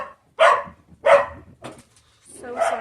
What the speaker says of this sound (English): my dog's going to bark for the next 10 minutes while this guy delivers